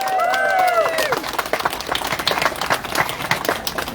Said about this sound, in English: Please give him a big, warm round of applause.